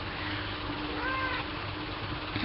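A cat gives a single short meow, moderately faint, over a steady background hiss.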